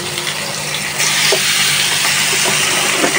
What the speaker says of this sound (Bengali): আস্তে আস্তে মাছটা ভাজি করে নিই